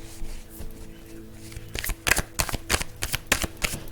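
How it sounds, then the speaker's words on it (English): Tarot cards are shuffled by hand up close, with soft riffling at first, then a series of crisp, rapid flutters and slaps of the deck in quick bursts. "Let me pull some more cards."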